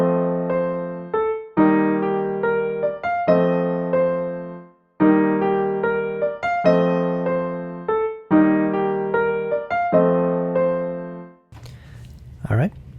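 A piano plays a slow, steady pattern of sustained chords and notes, repeating several times, each ringing out before the next, with a brief voice at the end.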